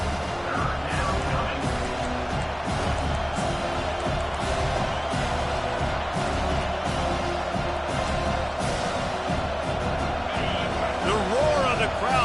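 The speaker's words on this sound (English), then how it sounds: "The roar of the crowd trying to fuel this defense to keep them pinned in their own end." A large crowd roars steadily at a college football game between Kansas State and Miami, a dense continuous wall of noise from the stands filling the whole stretch, with a commentator talking over it.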